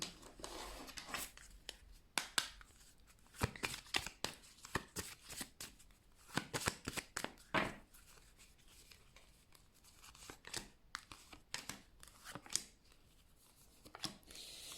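Tarot-style cards being shuffled and handled for a card reading, a quiet run of irregular papery riffles, slaps and rustles close by, no voice heard.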